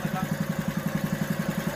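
An old but little-used Honda GX120 small engine idles with a steady, rapid, even chugging pulse, close and continuous, with no talk over it.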